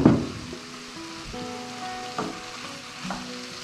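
Broth poured onto a sizzling wheat and mushroom risotto in a pan bursts into a loud splash and hiss, then settles into a steady, close sizzle with light stirring.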